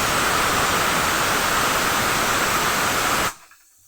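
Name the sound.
ground cumin, pepper and tomato paste poured into hot tempering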